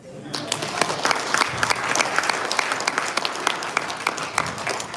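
A crowd of Nigerians gathered in London at a democracy event claps for a speaker; after a brief quiet start, loud, sustained applause from many people continues throughout.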